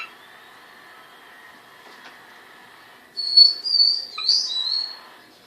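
A pet bird gives a short run of bright, rising whistles close by, following several seconds of quiet room hum with no talking.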